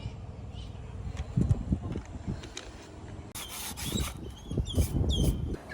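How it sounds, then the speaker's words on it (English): Scraping around a hole in the roof of a Toyota Coaster bus with a hand tool, a close, uneven rasping and rubbing in irregular strokes that grows brighter and harsher in the second half. "So we scraped all around the hole and it's ready for painting."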